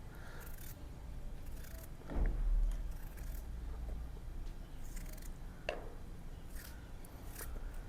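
A knife slices potatoes into long thin strips for Punjabi pakoras, producing a few soft, irregular cutting and scraping strokes close by against a quiet background.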